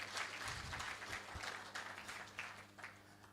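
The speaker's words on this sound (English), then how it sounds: "Shall we put our hands together for them?" An audience at the 18th AFRIMETS General Assembly opening ceremony breaks into sustained applause, a dense wash of many hands clapping that carries on throughout at moderate loudness.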